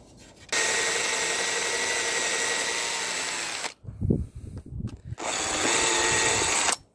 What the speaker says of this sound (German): da müssen wir quasi unsere Löcher bohren